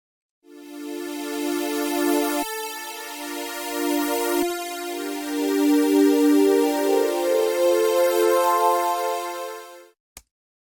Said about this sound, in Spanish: hice aquí un sample de un sintetizador en el cual estoy tocando acordes y suena así